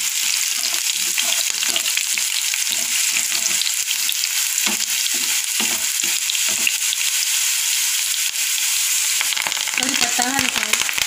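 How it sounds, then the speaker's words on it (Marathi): Onions frying in oil with mustard seeds and cumin in a pan, a loud continuous sizzle with stirring and scraping strokes through the first half, then hissing steadily on its own, close by. "मोहरी आणि जिरं घालतोय, हे छान मस्त यामध्ये कांद्यामध्ये परतवून घेऊ।"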